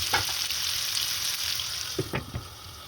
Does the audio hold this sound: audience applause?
no